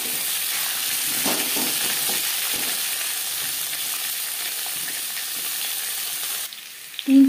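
Cut potatoes fry in oil with panch phoron, the five-spice tempering, giving a loud, dense sizzle that holds evenly for several seconds before cutting off, followed by a brief clunk near the end.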